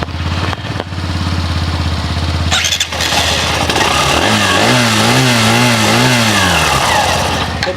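The original Hero Glamour motorcycle idles with a loud, close, thumping putter, then revs in a wavering, repeated climb and drop of engine pitch before easing off again.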